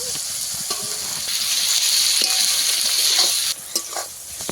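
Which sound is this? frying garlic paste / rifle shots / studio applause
frying garlic paste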